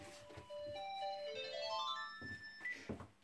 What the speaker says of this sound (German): Klingelt unser Telefon.